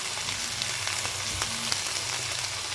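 Chopped ginger, garlic and chili fry in a hot pan for a paneer roll, giving a steady, close sizzle that crackles softly and continuously with no voices.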